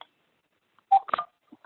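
A short run of keypad dialing tones from a cheap telephone while calling a doctor's office: a clear beep, then a longer cluster of tones, with a couple of faint blips after. Close and fairly quiet, with no talking.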